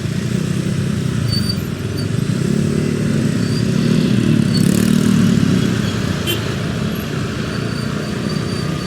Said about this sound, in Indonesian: Eits, ada motor.